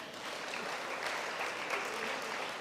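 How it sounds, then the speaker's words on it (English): Steady applause from an audience at a Future Leaders Internship engagement function, many hands clapping in a dense, even patter at moderate distance and fairly soft level, with no voices over it. "Please, please, please give him a round of applause"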